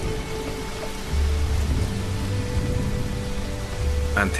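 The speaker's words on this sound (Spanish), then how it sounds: "Empieza a llover." Rain falls in a steady close hiss with a dull patter on a surface, a soft low rumble swelling through the middle and again near the end.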